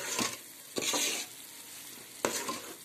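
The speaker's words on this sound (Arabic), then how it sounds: "بدأ السكر بالغليان بهذا الشكل." Sugar boiling in a pan while being stirred with a spoon, part of cooking white Adeni incense: three rough scraping, sizzling stirring strokes over a soft bubbling hiss, close and alone.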